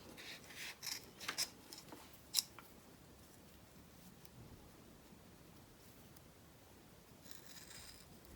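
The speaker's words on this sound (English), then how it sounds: "or I'm going to cut a little heart." Scissors snipping a small heart shape from craft material for a pinecone bunny: a few quiet, crisp cuts early on, then soft rustling and handling under a faint background hiss.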